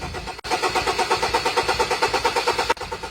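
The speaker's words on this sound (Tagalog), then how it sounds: "kita natin na sinubukan naming paandarin dito, pero ayaw talagang tumuloy yung andar" A Ford Everest engine cranks steadily without catching, a rapid rhythmic starter churn lasting about two seconds between brief pauses, close and loud with no voices.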